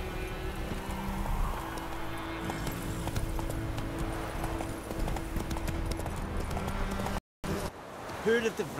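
Steady horse hooves clip-clop at a brisk, even rhythm in The Witcher 3: Wild Hunt, with faint voices underneath; the sound cuts out briefly before the hoofbeats return.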